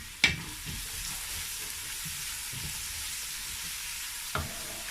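Jollof sauce of tomato and Scotch bonnet sizzling steadily in a pot, with a few clanks of the spoon as it is stirred.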